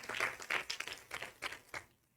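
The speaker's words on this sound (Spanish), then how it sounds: "Denle un aplauso al Creador." A church congregation claps in praise to the Creator during a Spanish-language service, a short run of fairly faint, uneven clapping bursts that trails off into quiet.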